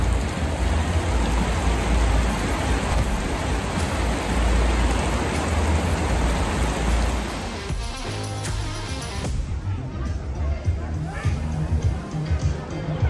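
Steady afternoon rain shower on a Caribbean beach at Bimini, a dense continuous hiss of falling rain that eases slightly partway through, with faint voices in the background.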